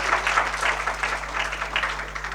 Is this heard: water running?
no